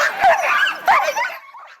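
Sled dogs at a dog sled tour kennel let out high yips and whining whimpers in two close bursts, loud and near, trailing off into a softer whine.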